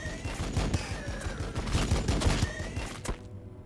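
An energy weapon fires in the Warhammer 40k Battlesector video game, a rapid volley of crackling shots rattling for about three seconds before cutting off abruptly, with no voices over it.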